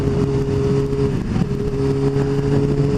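Cars on the road overtake a motorcycle cruising at the speed limit, giving a steady engine drone with a brief swell of passing traffic midway, heard from the rider's position without talking.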